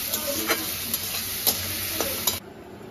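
Onions with salt sizzle steadily in a pan, with a few sharp taps of a spoon against the pan at irregular intervals before the frying sound cuts off near the end.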